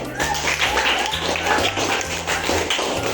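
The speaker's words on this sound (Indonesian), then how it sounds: "Ayo kasih tepuk tangan dulu." Children in a classroom applaud with dense, scattered clapping that runs steadily throughout, over a low droning background tone.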